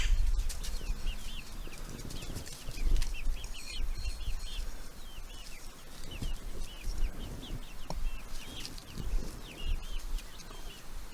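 Chickens, both older hens and young chicks, in an outdoor garden run in Texas, with steady high chirping and peeping throughout, occasional clucks and a rooster-like call, and some rustling and low background noise.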